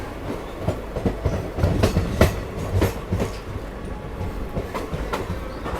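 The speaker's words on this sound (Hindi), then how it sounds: "मिथिला एक्सप्रेस को ओवरटेक करके चली गई है लोकल ट्रेन" Local train rolling past close by as it overtakes the Mithila Express, with rhythmic clickety-clack of wheels over rail joints and a continuous rumble, no voices.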